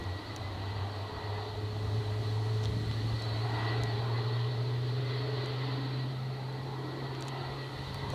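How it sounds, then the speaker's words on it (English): A Boeing 787 Dreamliner's engines spooling up at Edinburgh Airport, a steady low hum with a constant high whine above it, continuous and moderately loud from some distance, with no voices. "I think that's the Dreamliner starting up."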